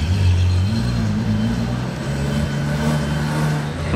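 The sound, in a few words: Ferrari with full Novitec exhaust revving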